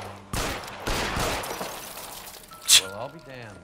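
Gunfire in the L.A. Noire video game shattering a frozen block, two sharp loud shots followed by a brief crash of breaking, with people talking over it.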